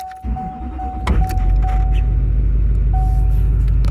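A cold 2007 Duramax LBZ diesel V8 cranks briefly and fires at 37°F, settling into a loud, steady clattering idle close by, with a recurring electronic beep chiming over it.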